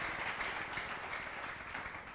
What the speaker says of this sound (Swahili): On met ensemble nos mains pour célébrer notre Seigneur.